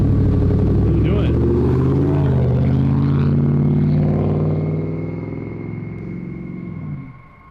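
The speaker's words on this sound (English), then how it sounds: "the mysterious driver of the pickup truck decides to drive off abruptly" A pickup truck pulls away abruptly, a loud close engine rumble that swells and then fades into the distance, with voices talking over it.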